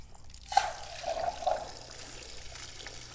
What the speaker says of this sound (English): our relief valve is draining. The body is emptying.